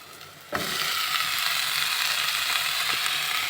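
Tomatoes dropped into a hot pan for kappa biryani, starting with a sudden burst into loud, steady sizzling frying that continues evenly, with a faint scrape of stirring near the end.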